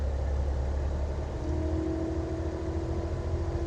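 A machine engine being pushed to higher RPM, a loud, steady low drone with a faint whine stepping in partway through, with no one speaking.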